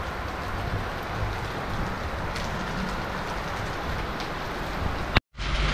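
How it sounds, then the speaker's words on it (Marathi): Heavy rain pours steadily outdoors, a dense, constant rushing hiss with no pauses, which cuts off abruptly near the end before resuming. "जोरात पाऊस चालू आहे."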